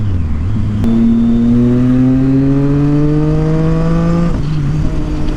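A loud Triumph Street Triple motorcycle engine revs up close, climbing steadily in a long smooth rise for several seconds before dropping back to idle.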